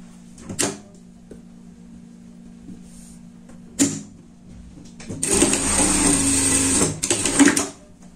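A domestic sewing machine stitches the shoulder seam of a pet pajama in one rapid, close burst of about two seconds, preceded by a few sharp clicks and handling knocks against a quiet background.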